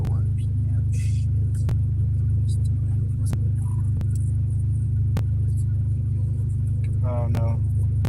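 A Honda Civic with a K24 engine idles at low RPM, a steady, smooth low rumble held throughout with faint clicks over it, close and continuous.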